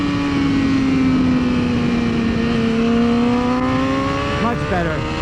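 Race car engine revving up strongly in second gear on a racetrack, a loud, close, rising whine that climbs steadily, with a brief shift near the end.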